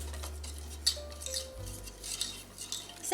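A wire whisk scrapes and clinks around a pot of chocolate peanut butter fudge in quick, irregular metallic taps over a low steady hum, close and fairly quiet.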